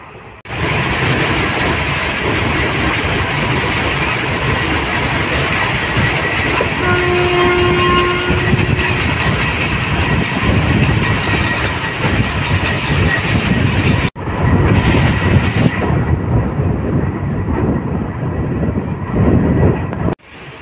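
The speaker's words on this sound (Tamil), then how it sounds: "ஸோ இப்போ நம்ம ட்ரெயின் பார்த்தீங்கன்னா கருங்குழி அப்படின்ற ஒரு ஸ்டேஷனுக்குள்ளே என்டர் ஆகிட்டுருக்கு" The Tambaram–Villupuram MEMU express train running and pulling into Karunguzhi station: a loud, continuous rolling rumble with short horn tones partway through and a shift in the noise near the end.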